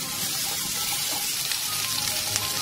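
Chopped bell pepper sautéed on a high flame for chana chilli, a steady close hiss and crackle of frying that runs evenly throughout with no voices.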